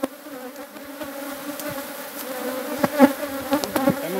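Honey bees buzz steadily throughout a honey harvest at an Argentine apiary with half and three-quarter supers, a close, continuous hum with a few louder passes near the end.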